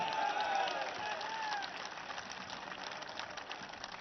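A crowd at an outdoor political rally in Peshawar claps and roars, a continuous distant wash of applause with some whistling, slowly easing in level.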